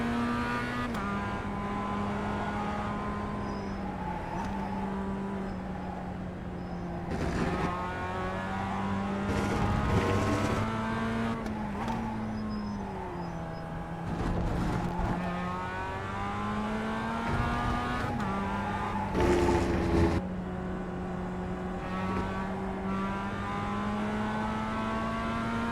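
Video-game car engine droning steadily for the whole stretch, revving up and down between gear changes as the car is driven to warm its tyres, with occasional brief squeals and bursts.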